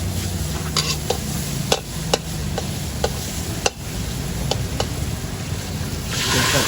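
Pork being stirred in a hot pan, a continuous loud sizzle punctuated by repeated scraping clicks of a spatula against the metal, close and busy.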